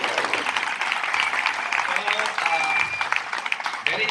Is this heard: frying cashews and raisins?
no